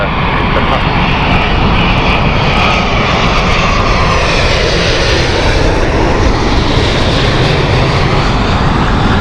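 A jet aircraft on the Boston flight at Heathrow thunders nearby, a loud, unbroken engine roar that holds steady throughout.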